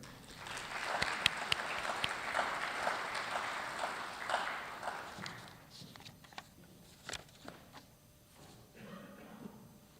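Audience applause at a K-12 education symposium as a speaker is welcomed to the stage, a dense burst of clapping that swells for several seconds and then thins into scattered claps and a few footsteps.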